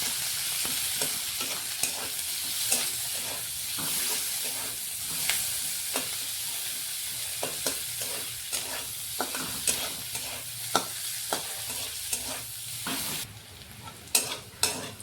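Onions frying in a pan in an Odia home kitchen, a steady close sizzle with repeated sharp scrapes and taps of a spatula stirring throughout, without talk, ending in a few louder clatters.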